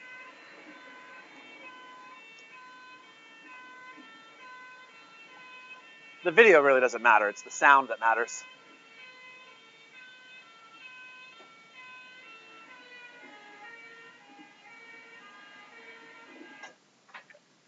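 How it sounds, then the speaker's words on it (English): A fire engine siren plays back faintly as a steady, sustained wail with layered tones, interrupted midway by someone speaking loudly over it for a couple of seconds. "this is a fire engine that's demonstrating the Doppler effect"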